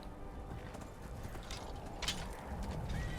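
Horse hooves clip-clop rhythmically on a road in the Skyrim video game, a steady mid-level patter of footfalls with faint mechanical clicks and no talking.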